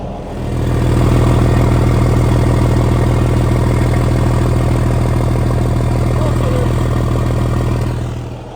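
A truck engine with a holed, leaking exhaust runs steadily and loudly up close, a deep droning idle with a rapid, rhythmic puffing clatter throughout.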